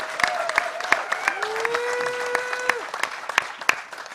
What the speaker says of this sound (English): give him a huge round of applause for the microcontroller workshop